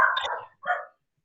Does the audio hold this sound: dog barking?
yes